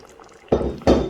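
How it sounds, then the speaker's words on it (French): About 10 ml of water is poured into a pot of carrots in two short splashing bursts, close and fairly loud, with brief quiet between them. "je suis venue rincer tout ceci avec 10 ml d'eau et mettre à l'intérieur"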